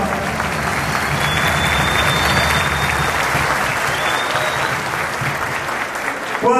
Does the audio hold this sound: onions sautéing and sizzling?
no